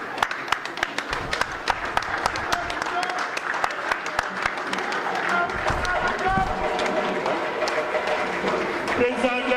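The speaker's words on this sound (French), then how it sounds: "je vous invite à vous lever pour un standing ovation, un applaudissement chaleureux pour Maître Ibrahima Diop ici présent." A crowd rises in a standing ovation at the opening ceremony of a jazz festival in Saint-Louis, Senegal. Sharp individual claps ring out over a steady bed of applause, with voices in the mix.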